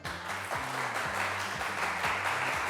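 Studio audience applauding on a French game show, a steady wash of clapping held at an even level throughout, with a low musical tone running underneath.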